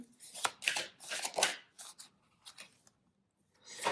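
Tarot cards are shuffled in quick, crisp riffling bursts, several close flurries of papery slapping separated by brief pauses, with a final burst at the end.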